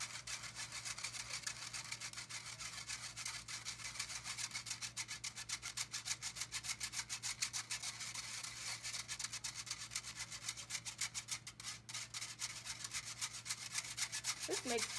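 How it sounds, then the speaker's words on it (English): Chocolate pound cake batter is whisked by hand in a bowl, a quiet rapid scraping rhythm of the whisk against the bowl that continues steadily throughout, faint and close. "And I'm going to whisk that in"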